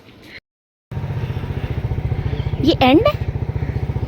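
A motorcycle engine starts up abruptly after a short silence and then runs loud and close with a steady, rapid thumping pulse while it is ridden outside. A person speaks briefly over the engine.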